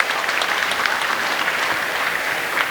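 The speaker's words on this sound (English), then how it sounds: "round of applause." An audience at an AYUSH festival event gives a big round of applause to welcome a speaker, with dense, even clapping from a crowd that holds steady throughout.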